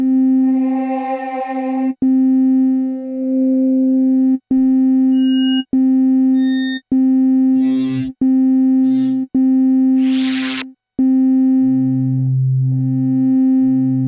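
A Korg Wavestate SE synth holds a steady buzzy tone that crossfades into a choir sample. The tone is broken by short gaps and brief breathy swells, and a low choir-like layer rises near the end.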